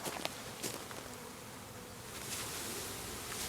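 A bee swarm buzzing outdoors, a dense continuous drone of many insects that swells slightly louder toward the end, steady and fairly quiet with no talking.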